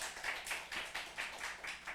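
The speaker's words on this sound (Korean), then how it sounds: "다시 한번 격려의 박수 하도록" A church congregation claps together in encouragement, a faint, evenly paced run of rhythmic claps heard from a distance with no voices.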